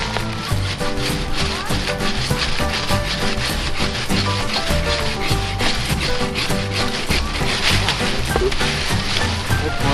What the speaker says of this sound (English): quite often you just bow saw these down rather than taking all the gas and the chainsaw